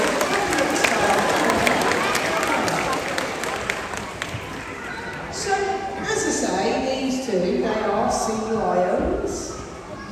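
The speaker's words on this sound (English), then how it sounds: "give them both a big round of applause" A crowd at a sea lion show at Knowsley Safari Park claps for the performing animals. Scattered, moderate applause fills the first half and fades as an amplified voice talks over it and continues alone.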